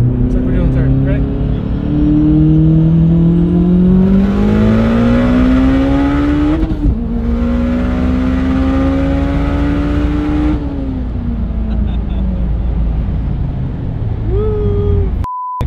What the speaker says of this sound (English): Damn, that turbo sounds nice.